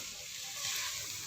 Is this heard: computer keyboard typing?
no